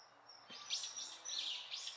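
Wild birds sing outdoors, a layered chorus of bright chirps and trills in short overlapping bursts over a soft background hiss, recorded for 3D localization and species identification.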